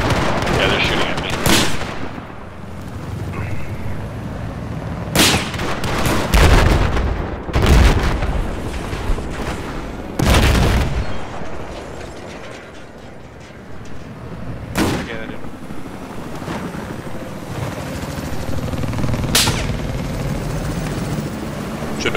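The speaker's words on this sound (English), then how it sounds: "Yeah, they're shooting at me." Battlefield 4 combat: loud bursts of gunfire and heavy blasts crack out at intervals over a constant rumble of engines, with voices talking in between.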